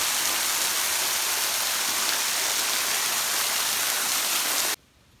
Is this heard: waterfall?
yes